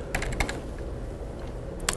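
Several quick keystrokes tapped on a computer keyboard while menu items are renamed in Dreamweaver, close and fairly soft, with a short burst near the start and a single clack at the end.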